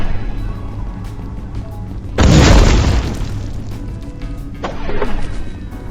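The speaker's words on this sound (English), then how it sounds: "this is a great middle way to just blow up these walls." A plasma bomb blasts through walls in the video game Space Grunts 2: a sudden loud, booming explosion with a noisy decaying rumble, followed by a second, smaller burst a couple of seconds later.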